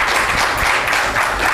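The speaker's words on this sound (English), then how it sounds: "big round of applause" Loud, continuous applause from an audience at an International Women's Day awards event, dense clapping filling the whole moment without pause.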